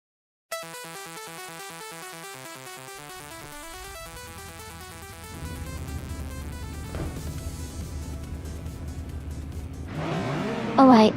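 Several race cars in an AI racing video game at the Valencia Street Circuit start a race, engines rising from a steady drone into louder revving under game music, with a sharp burst near the end.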